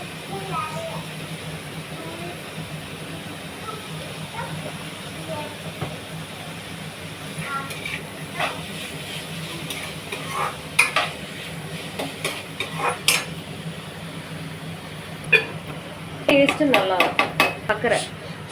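Rice frying in a pan while mango rice is cooked, a soft continuous sizzle with scraping stirs and metallic clinks growing busier toward the end, under quiet talking.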